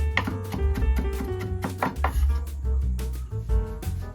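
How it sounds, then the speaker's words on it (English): Red pickled ginger is minced with a knife on a board for yakisoba, producing a quick series of sharp, close taps and cuts in an uneven rhythm over quiet background music. "Mince the red ginger."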